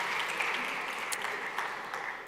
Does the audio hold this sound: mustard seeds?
no